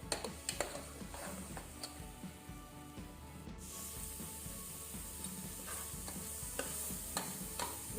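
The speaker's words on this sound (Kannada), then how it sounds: "ಈಗ ಫ್ಲೇಮ್ ಮೀಡಿಯಮ್ ಟು ಲೋ ಇಟ್ಕೊಂಡು ಇದನ್ನು ಫುಲ್ಲು ಹಸಿ ವಾಸನೆ ಕಂಪ್ಲೀಟ್ ಹೋಗೋ ತನಕ ಇದು ಫ್ರೈ ಆಗಬೇಕು" Masala for pork curry frying on a medium-low flame, a soft steady sizzle with repeated light scraping and tapping of a spoon against the pan.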